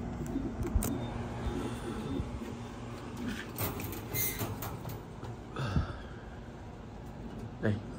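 A pigeon coos softly near its nest among other pigeons, low murmuring calls over a quiet indoor background with occasional small knocks and rustles.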